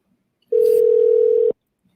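A telephone line gives a single loud, steady dial tone lasting about one second as a call is placed, with silence before and after.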